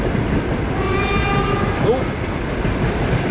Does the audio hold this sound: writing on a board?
no